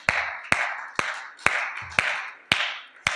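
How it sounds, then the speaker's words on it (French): A church congregation claps in steady time, seven sharp, loud claps evenly spaced about half a second apart, each ringing briefly in the room. "Applaudissons le roi de roi."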